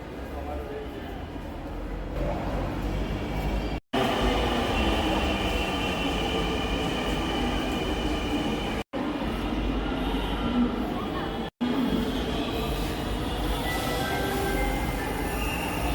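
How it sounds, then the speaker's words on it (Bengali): A metro train pulls into a city metro station, its steady rumble and squealing wheels filling the platform, while people talk over the noise throughout. "মেট্রো স্টেশনে চলে যাওয়ার পরে একটু ওয়েট করার পরে আমাদের ট্রেনটা চলে আসছে।"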